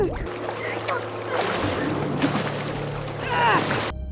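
Oars dip and splash as a family paddles a boat along a river, water sloshing and lapping steadily with a soft low rumble underneath, before the sound cuts off abruptly near the end.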